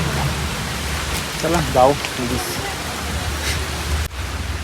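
Heavy rain falls at the site of a 250-year-old stone well in the Kasara Ghat area near Igatpuri, Maharashtra, a steady broadband hiss heard from shelter under a tree, while someone speaks briefly over it.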